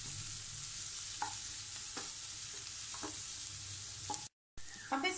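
Roughly chopped onion fries on a high flame, giving a quiet, steady sizzle with a few soft stirring clicks at about one-second intervals. The sound drops out briefly near the end.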